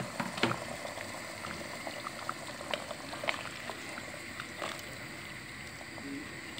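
Chicken simmers in water with fried tomato paste sauce for a home Saturday lunch, giving a steady low bubbling with a few sharper pops and clinks throughout, fairly quiet and with no voices.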